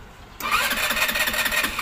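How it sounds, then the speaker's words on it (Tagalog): An Er150n motorcycle engine cranks without catching: a sudden loud, rapid churning starter whir kicks in after a brief quiet and runs on steadily without settling into an idle. "ang nangyari dito sa motor na to is ayaw umandar"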